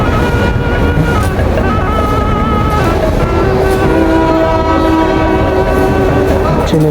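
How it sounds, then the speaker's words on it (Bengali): A train at Kamalapur railway station sounds a loud, sustained horn over the rumble and clatter of the rail cars, with the tones holding steady and close by. "ট্রেনে হুইসেল দিচ্ছে,"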